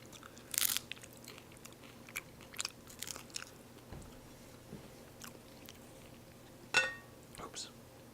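Crunchy bites into a spaghetti taco with a sweet meat sauce, a few sharp crunches and quiet chewing close to the mic, spaced between soft mouth noises.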